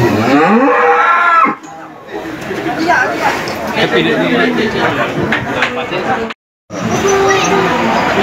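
A cow lets out a loud, drawn-out moo at the start, followed by crowd chatter and voices at an outdoor cattle competition in Manir, Terengganu, Malaysia, with a brief silent gap.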